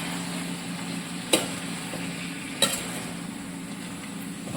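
Chicken frying in a pan for a milk chicken dish, a soft steady sizzle with two sharp clacks of stirring spaced about a second apart, no voices.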